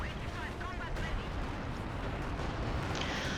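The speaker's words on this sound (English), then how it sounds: "Mortar gets wasted by an artillery shell." Artillery shells landing in Company of Heroes 2, a dense rumbling barrage of distant explosions with someone talking over it throughout.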